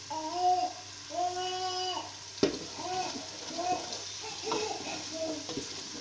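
A small child babbles and squeals in a kitchen, with several drawn-out vocal cries close by. A faint sizzle of dal cooking runs underneath, and a single knock comes partway through.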